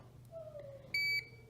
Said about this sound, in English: it'll start beeping like this to let you know that, hey, I'm stuck, come help me